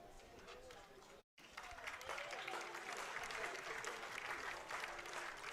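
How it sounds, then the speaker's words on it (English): Fans at a college baseball game between Creighton and Stanford break into sustained applause that swells and holds, heard from a distance with a brief cut near the start. "Nice round of applause here from fans."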